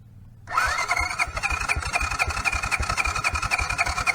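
A Honda Big Red ATV engine cranks and catches without choke, settling into a loud, close, lumpy idle with an uneven pulsing rhythm after a brief quiet start.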